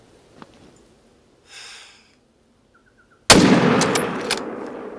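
Rifle shot striking a deer in The Hunter: Call of the Wild, one sharp loud blast after quiet moments with faint small sounds, followed by a decaying echo.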